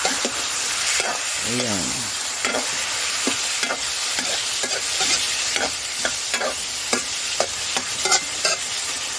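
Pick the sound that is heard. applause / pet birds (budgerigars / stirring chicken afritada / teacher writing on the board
stirring chicken afritada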